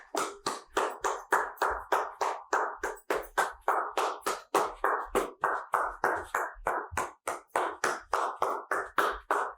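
A single person's hands clapping in a steady, brisk rhythm while jogging, close and fairly soft, with evenly spaced claps continuing throughout and no voices.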